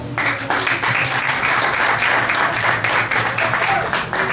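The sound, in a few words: congregation applause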